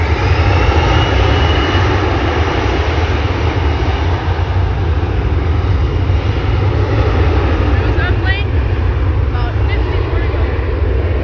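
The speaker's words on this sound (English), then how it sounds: "Alaska Airlines E-175 waiting for clearance." Alaska Airlines Embraer E-175 jet idling at Vancouver International Airport while waiting for clearance, a loud, steady broadband engine roar close by that holds constant throughout, with faint voices underneath.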